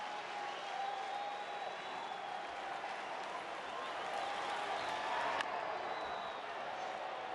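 A big baseball crowd at a rainy Chicago Cubs home game against the Los Angeles Angels applauds and cheers steadily, a broad wash of clapping and crowd noise from the stands throughout.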